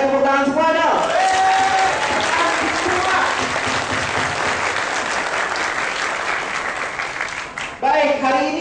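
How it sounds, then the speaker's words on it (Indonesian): A crowd at a special arts performance event at IPB breaks into loud, sustained applause with a little cheering. A voice is heard briefly just before the clapping and again as it dies away. "Tepuk tangan semua dong"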